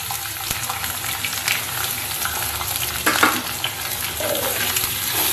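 Onion-garlic paste hits potatoes frying in oil, setting off a steady sizzle with stirring scrapes and a louder burst around the midpoint, close by and with no talk.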